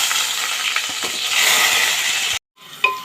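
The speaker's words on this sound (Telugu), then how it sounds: "ఉల్లిగడ్డ కూడా వేసుకోవాలి." Chopped onions hit hot oil in a pan and sizzle loudly and steadily, a dense hiss that cuts out abruptly, then resumes more faintly with a sharp clink.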